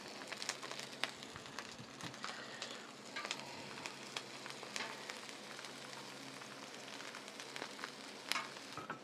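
Lamb chops sizzling in a hot pan, a steady crackling fry with scattered sharp pops, quiet and close, running on without any talk.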